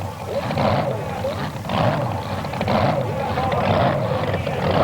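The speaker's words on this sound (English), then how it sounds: "When the motor goes to loping like that, that means big cubic inches." A big-block 540-cubic-inch Jeep mud racer on cut tires idles at a 1991 mud racing event in McComb, Mississippi, its engine loping in a rough, rhythmic rise and fall, loud and close, with faint talk underneath.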